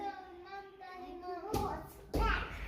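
Kindergarten children clap their hands in a classroom in two short bursts of clapping, preceded by a voice speaking.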